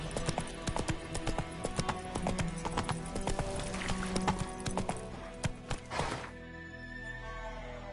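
Hooves of the horse Roach clip-clop steadily at a brisk walk in The Witcher 3: Wild Hunt, a close, even rhythm of hard thuds that stops abruptly near the end, leaving a quieter ambient tail.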